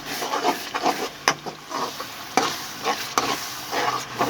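Two chopped onions frying over high heat in a pan, steady sizzle under repeated scraping stirs and a few sharp knocks of the spoon, close and continuous with no talking.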